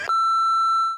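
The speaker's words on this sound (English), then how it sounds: "Beep." A single sustained electronic beep from an exercise interval timer, clear and steady for about a second before it cuts off.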